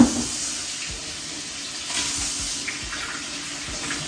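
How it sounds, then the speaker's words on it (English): Running tap water pours steadily at a kitchen sink while a pineapple is rinsed under it, a continuous close splashing hiss with slight surges and no talking. "I actually wash my pineapple off because I drink it."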